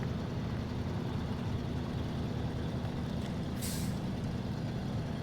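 A truck engine driving in the video game SnowRunner, a steady loud low rumble that stays constant throughout, with a brief hiss near the end.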